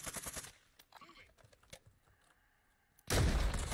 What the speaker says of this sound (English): There's bots shooting at us.